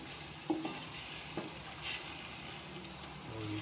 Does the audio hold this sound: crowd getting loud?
no